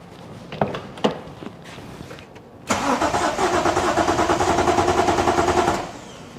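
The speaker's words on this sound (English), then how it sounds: "So I know that this is going to turn over really nice." A BMW S52 engine cranks over with its fuel pump unpowered, a few sharp clicks leading into about three seconds of loud, steady, rapid starter churning that never catches and then stops.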